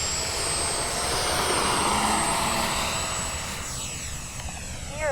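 An airplane passes over the airfield at Fritz Field with a loud, steady engine roar, a high whine riding on top, and a sweeping pitch shift as it passes close by.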